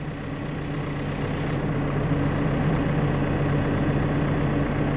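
A tractor engine runs steadily nearby, giving a constant heavy low drone that holds level for the whole stretch with no voices.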